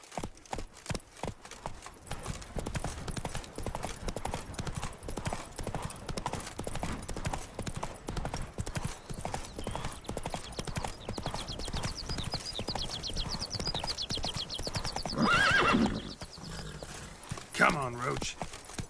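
Geralt's horse Roach from The Witcher 3 gallops with a steady, rapid clip-clop of hooves throughout, a short whinny near the end, and a voice speaking over the hoofbeats.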